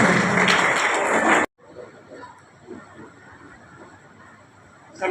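An audience applauds loudly at a book launch for the poetry collection 'Do Minute Ka Maun' at Radhakrishna Bhavan in Dhamtari. The dense applause lasts about a second and a half, then cuts off abruptly to a quiet room with faint murmur.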